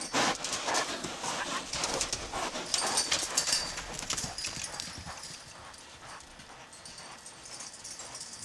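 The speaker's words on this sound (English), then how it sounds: "she's teaching the horse to stop and start" Horse moving during gentle ground training, stopping and starting, with irregular hoof clip-clops over a rough background of ambient noise, moderately near and fading somewhat toward the end.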